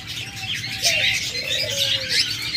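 A pair of grey pet birds in a bird shop give soft, gliding whistled calls and coos, several short notes over a busy chatter of other birds nearby.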